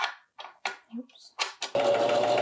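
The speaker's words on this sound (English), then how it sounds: "step one is doing some stay stitches to help the fabric stay" A sewing machine stitches stay stitches into cotton fabric with pink cotton thread, running as a steady, close whir for the last second after several short bursts of talk and small handling sounds.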